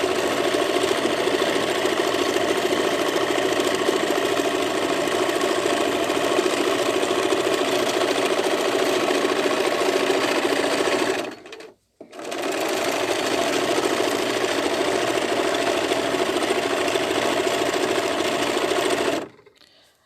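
A sewing machine free-motion quilting petal outlines runs loud and steady in a continuous mechanical whir, close by, briefly stopping just before the midpoint and then resuming until a stop at the very end.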